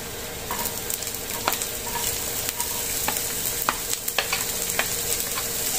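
Chopped onions sizzle in hot oil in a pan while a utensil stirs and scrapes them, a steady close frying hiss broken by sharp irregular clinks.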